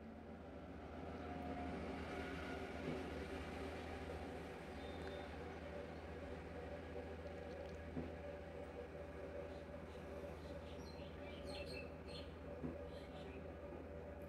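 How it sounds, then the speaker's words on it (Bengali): A sewing machine stitches fabric along the side seam of a round-neck maxi dress, giving off a faint, steady mechanical whir that runs unbroken from start to finish. "এখন আমি সাইডে এই যে 2 সুতা পরিমাণ করে রেখে তারপর আমি সেলাই করে নিচ্ছি"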